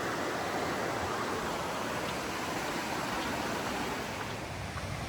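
Steady, broad rushing of a clean mountain river near Stehekin on the Pacific Crest Trail, loud and continuous with no pauses, fast water flowing close by.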